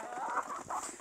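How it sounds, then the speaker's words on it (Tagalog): Native chickens cluck softly at a farm, a few short murmuring clucks in a quiet, fairly close sequence with no talk. "nagpaparami kami ng aming mga native chickens"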